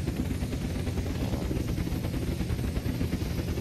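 A helicopter in the video game Unturned gives off a loud, steady rotor whir and engine drone that runs unbroken for the whole stretch, with no voices over it.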